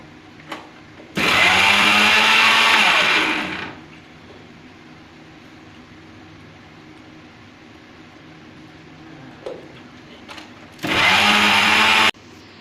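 A mixer grinder whirs loudly in two bursts, one lasting about two and a half seconds and a shorter one near the end, briefly pulsing ingredients for a homemade hair oil, with quieter handling noises in between.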